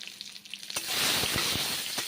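Eggplant slices frying in oil, a quiet start breaking into a sudden hissing sizzle as the slices go in, followed by steady close frying with a few soft knocks, no talking.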